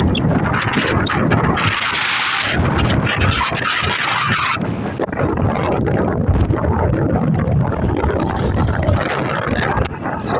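Strong southwest monsoon wind during Typhoon Maymay roars and buffets the microphone in a loud, unbroken rush that surges and dips.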